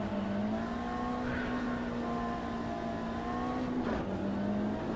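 A Mitsubishi Lancer RS idles and revs at the start of a race at Brasilia in a racing sim, a steady droning engine note held at near-constant pitch. The note dips briefly before settling again.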